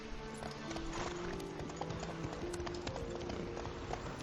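Rapid hoofbeats of a galloping horse in The Witcher 3 over a steady bed of game music, loud and continuous for the whole stretch.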